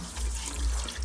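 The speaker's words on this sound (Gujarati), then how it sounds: "હાથ ધોઈ નાખ તું હવે." Water runs from a household tap as hands are washed, a steady close splashing rush with a low rumble that persists through the whole short stretch.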